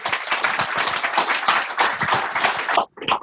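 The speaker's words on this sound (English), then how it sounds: "Can I get a round of applause for them?" An audience at a startup event claps for the panelists, a dense burst of applause that holds steady and loud for almost three seconds, then cuts off with a brief final smattering.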